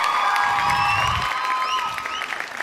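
Audience at a Tamil film audio launch cheering and clapping for a singer, a dense, steady crowd roar with whoops and a few high shouts throughout.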